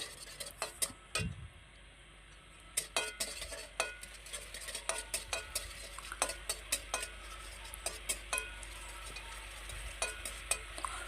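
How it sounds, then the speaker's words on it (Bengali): Chili momo sauce with sugar and soy sauce being stirred in a pan, with a spoon scraping and tapping the metal in repeated close clicks over a soft steady sizzle; no talking. "তো এইভাবে কিছুক্ষণ নাড়াচাড়া করে নেব।"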